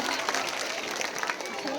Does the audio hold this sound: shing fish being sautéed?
no